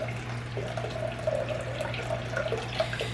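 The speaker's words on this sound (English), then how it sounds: "I'm gonna still add a little bit of water" Water pours into a cooking pot of ackees, jackfruit and quinoa, a soft steady trickling stream running for a few seconds, fairly quiet with a low hum underneath.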